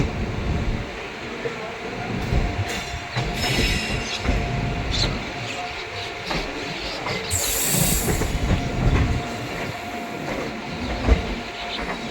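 A passenger special from Prayagraj to Delhi via Chitrakoot runs on the rails, giving a steady rumble with intermittent wheel squeal and a brief high screech midway, while someone talks over parts of it.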